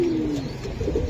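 Red khaki racing pigeon giving a low coo that slides downward near the start, then softer murmuring coos with light background rustle.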